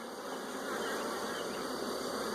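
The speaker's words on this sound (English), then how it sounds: "let me get these bees off" Honeybees crowd a frame lifted from a five-frame nucleus hive, giving a dense, steady buzzing hum that fills the clip at close range with no voices.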